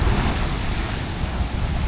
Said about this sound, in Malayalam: കടൽ കരയിൽ കടിച്ച് കയറിക്കൊണ്ടിരിക്കുന്നു.